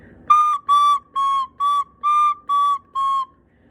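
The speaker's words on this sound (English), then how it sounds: "that means your thumb is not on the hole or not on the hole all the way" Seven short, even recorder notes in a row, thin and whistly at one steady high pitch from the thumb hole not fully covered, played close and clear against near silence.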